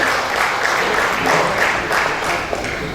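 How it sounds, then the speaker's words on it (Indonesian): Audience applause fills a meeting hall at an alumni association general assembly, steady dense clapping from a sizeable crowd lasting the full few seconds at moderate loudness, with no one speaking over it. "Kita berikan aplaus juga untuk Pak Dr."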